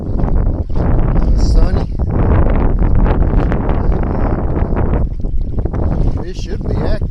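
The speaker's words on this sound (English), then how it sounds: "Windy. Wind's probably blowing 30 miles an hour" Strong wind of around 30 miles an hour blowing over open water during kayak bass fishing roars steadily and buffets the microphone up close, while someone talks over it.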